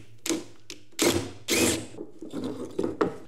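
Removing a set screw from the locking rod of a Polaris tailgate, with close metallic ratcheting and clicking in irregular bursts, several loud scrapes of metal on metal, and small mechanical rattles in between.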